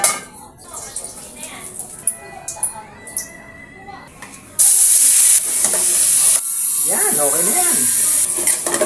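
Meat for a dinakdakan-style dish fries in a pan with soy sauce, a loud steady sizzle rising midway alongside scraping stirring and utensil clatter against the pan, with a person talking over the cooking.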